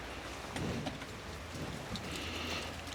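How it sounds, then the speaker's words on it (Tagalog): Steady rain pours down in a dense, even hiss, with a faint low rumble underneath, and no voices. "Ulan."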